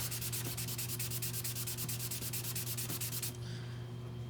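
Leather dye rubbed by hand into a wooden piece for luthier work, a steady rapid scrubbing rasp of cloth on wood that runs continuously and close, then stops abruptly near the end, with a low hum underneath.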